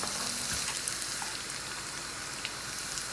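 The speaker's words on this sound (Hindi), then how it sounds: "अब अनियन हमारा अच्छे से भुन चुका है।" Onions frying in a pan with dried red chilies, garlic and ginger make a steady, quiet sizzle that crackles like light rain throughout, with no voices.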